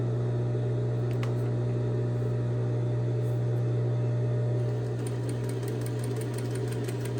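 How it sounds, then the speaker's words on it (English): A sewing machine stitching and back stitching a quarter-inch seam on fabric samples, a steady loud close motor hum with rapid needle chatter that runs continuously, shifting slightly near the end, with no talking. "So I'm going to stitch and back stitch at the end."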